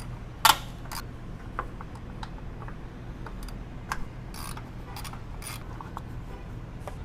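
Ratchet wrench with a 10mm socket removing a cover on a Toyota Tacoma, giving scattered quiet clicks and metallic ticks, with one sharper click near the start, all close over a low steady hum.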